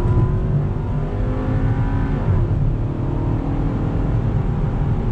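A 2016 VW Beetle Dune tuned to APR Stage 3 accelerates out of a corner, its engine note climbing smoothly and holding loud and close from inside the car for several seconds, with no talking.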